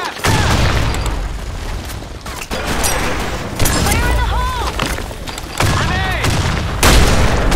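Grenade and gunfire blasts in a video game firefight, loud repeated booms and bursts over a continuous noisy battle din, with players shouting and talking throughout.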